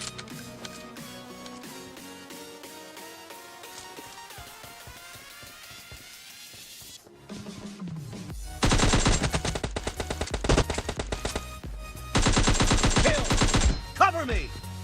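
Sustained automatic fire in a shooting video game set in a warehouse: two long, loud bursts of rapid shots come late, after a stretch of game music and effects.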